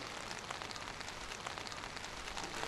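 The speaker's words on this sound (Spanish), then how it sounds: "Además, la lluvia no estaba prevista." Steady rain falling in Bonn, Germany, a dense continuous hiss of drops striking surfaces, heard alone without voices.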